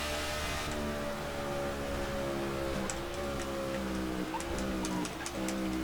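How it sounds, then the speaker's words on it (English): Race car engine in the NASCAR '15 video game, droning loudly and continuously while the pitch climbs and drops as it shifts up through the gears, with faint ticking on top. "Just shifting up through the gears."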